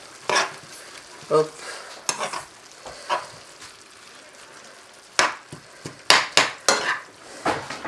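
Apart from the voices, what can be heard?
stirring vegetables and calf liver in a pan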